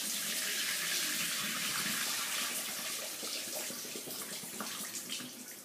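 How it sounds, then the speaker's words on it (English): Excess whey poured off homemade hard cheese curd, a steady, loud rush of liquid that runs continuously and eases slightly toward the end, with no talking. "first pour off as much excess whey as you can"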